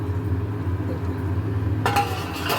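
A lid is set onto a simmering cooking pot of muri ghonto, giving a clear metallic clink and rattle partway through over a steady low hum of the stove.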